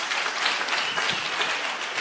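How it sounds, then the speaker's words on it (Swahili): A crowd at a Nairobi public gathering breaks into applause for the governor, a thick, even wash of clapping sustained throughout, with no voices over it. "Tumpigieni makofi jameni"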